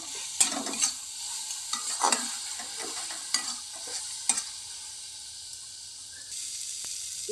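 Ginger, garlic and onion paste fries in a pan for a stuffed pointed gourd dish, giving a steady hiss and sizzle broken by intermittent scraping stir strokes and small clinks, with no talk.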